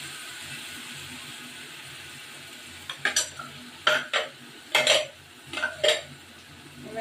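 Masala spice paste poured into a hot pan while cooking butter chicken, a background sizzle overlaid by several sharp clatters and scrapes of stirring, each burst brief and close, with no voices.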